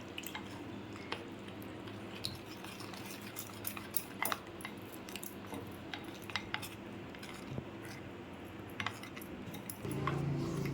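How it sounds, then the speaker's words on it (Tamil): Chicken marinade being stirred and mixed in a bowl with water added, giving a steady run of soft wet squishing and clinking of a spoon against the bowl, close by with no talk. "நல்லா மிக்ஸ் பண்ணிக்குங்க."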